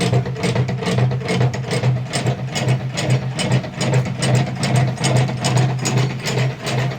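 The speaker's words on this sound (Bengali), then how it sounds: "এই মোটর ঘুরছে" Motor running an 18-foot batasa sugar-candy machine with a belt drive, a loud, steady mechanical whir with a fast, regular ratcheting clatter, close and continuous.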